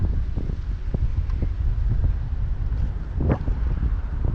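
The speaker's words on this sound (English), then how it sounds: "Ooh, that's pretty stiff wind" Strong, stiff wind on a Halloween evening walk in Maine, roaring and buffeting a handheld microphone in continuous gusts, with a sharper blast near the end.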